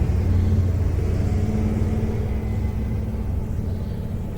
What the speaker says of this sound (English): There's some traffic out on Caledonia Street tonight.